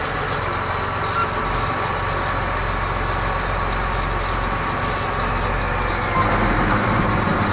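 An engine that has just been dried out runs steadily at idle, a continuous low rumble with a slight surge near the end.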